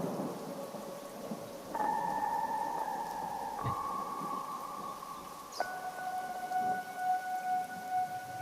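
Steady heavy rain hisses throughout in a dense jungle, with a few sharp cracks and faint tonal hums drifting through the downpour.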